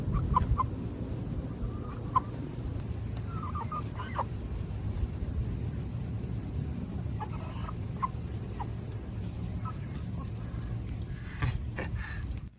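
Scattered soft clucks from a hen over a steady low rumble, with short pauses between the calls and a louder burst near the end.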